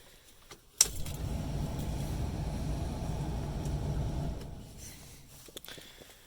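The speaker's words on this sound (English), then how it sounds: "But I'll do a quick cold start on this thing." Cold start of a 1986 diesel K5 Blazer: a sharp crank catches at once into a steady, loud, close diesel rumble that holds for several seconds, then eases down toward a quieter idle.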